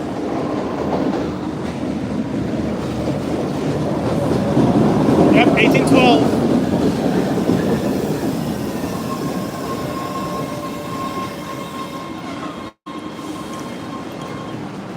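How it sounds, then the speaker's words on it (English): MBTA subway train pulling into Downtown Crossing station, a steady loud rumble of rail cars and wheels swelling and fading over the whole stretch, with a brief high squeal midway and people talking over it. "Comes the train from the 90s."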